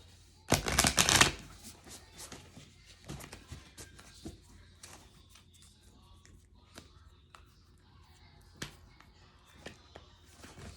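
A burst of shuffling of large oversized cards, a rapid flurry of riffling flicks at the start, followed by quieter handling clicks and taps.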